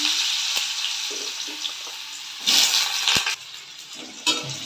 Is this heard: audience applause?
no